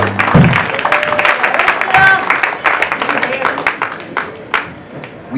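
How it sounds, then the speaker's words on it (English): Church congregation clapping hands in praise, a dense crowd of claps with voices and cheering over it, loud and reverberant. "Let's give God a hand clap of praise."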